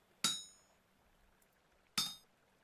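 Two sharp metallic hammer blows on metal in the Vintage Story video game, about two seconds apart, each a bright ringing clang that decays quickly into quiet.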